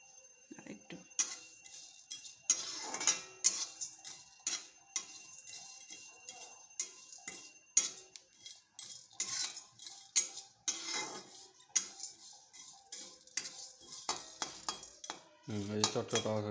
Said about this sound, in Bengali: এই যে চটচট আওয়াজ হয়েছে, চটচট আওয়াজ করা আরম্ভ করছে